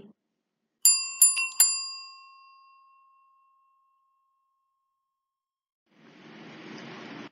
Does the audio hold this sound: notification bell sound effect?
yes